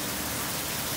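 Steady rain pours down in Karachi, a dense, continuous hiss with no pauses or other sounds over it.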